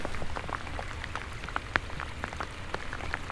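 Rain patters steadily on a fishing boat, a dense close hiss of drops with sharper individual taps scattered throughout, no talking.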